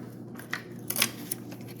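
Scissors snipping a piece of plastic for an HO scale model: a few quick, crisp clicks, close and moderately loud against a low background hum, no talk.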